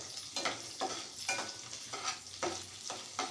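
Ingredients roasting in ghee or oil for capsicum mint rice give a faint sizzle, with rhythmic stirring scrapes in the pan repeating about every half second.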